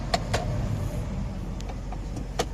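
A Mazda Tribute with a freshly overhauled automatic transmission runs on a road test, its low engine and road drone steady and close inside the cabin, punctuated by a few sharp clicks and ticks.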